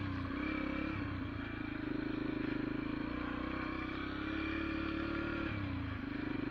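A Yamaha TTR 125 dirt bike, a small roughly 15-horsepower trail bike, drones steadily up close while riding urban trails, its engine note holding even with slight dips as the throttle eases and picks back up.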